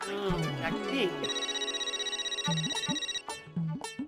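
A telephone rings with a rapid electronic trill, a steady ringing burst followed by shorter repeated rings, with voices and bits of music around it.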